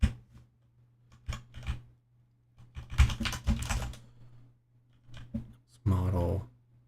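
Computer keyboard keys clicking in short bursts and scattered taps while code is entered, with a person talking in between and a steady low hum underneath.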